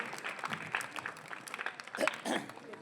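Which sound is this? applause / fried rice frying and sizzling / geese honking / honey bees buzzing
applause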